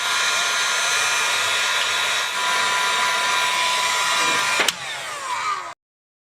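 A heat gun set on low blows steadily against an AC hose on a 1982 GMC C2500 truck, a close, even whirring hiss with a brief clunk near the end before it cuts off.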